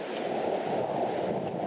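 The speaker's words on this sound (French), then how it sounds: "Des averses violentes accompagnées de coups de vent" Strong wind gusts sweep the banks of the Loire in Tours, a steady loud roar of buffeting air with no voices, close to the microphone throughout.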